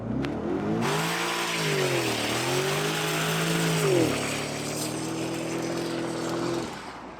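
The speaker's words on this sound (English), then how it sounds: "might be a good time to test out if this thing will do a burnout or not" An Alpina B7 with no ABS or traction control revs hard during a burnout attempt, the engine note rising and falling loudly before holding a steady high drone, then dropping off at the end.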